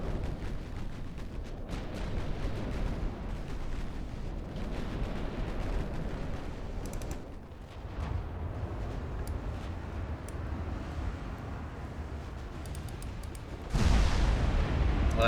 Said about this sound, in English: Our battleship's 16-inch guns seem to be doing a better job than these